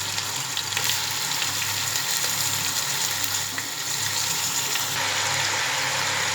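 Beef pieces fry in an onion, ginger and garlic paste for restaurant-style Delhi nali nehari. A steady, close sizzle crackles continuously with no voices over it.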